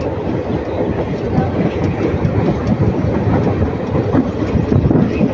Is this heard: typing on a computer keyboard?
no